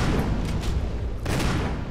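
Gunfire in the Resident Evil Remake HD Remaster video game, a dense run of loud muffled shots rolling into one another, with a sharp cut to a quieter tail near the end.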